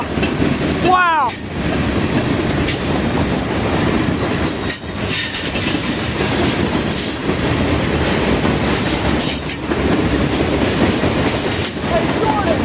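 Norfolk Southern freight train pulling rock hoppers and tank cars behind three smoking locomotives rolls past close by, with loud continuous rumbling, rhythmic clickety-clack and a brief wheel squeal.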